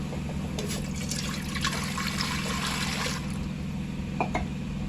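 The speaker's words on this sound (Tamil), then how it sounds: "இப்போ தண்ணி ஊற்றிடலாம்." Water pours steadily into a metal idli cooker on a lit stove, a continuous splashing fill with a low hum underneath.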